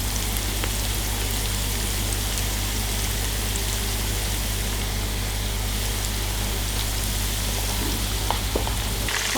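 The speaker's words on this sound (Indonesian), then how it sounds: "Oke, kita goreng sampai kecoklatan ya." Chicken karaage deep frying in hot oil, a steady, dense sizzle and crackle running without a break from start to finish, close and fairly loud, with no voices over it.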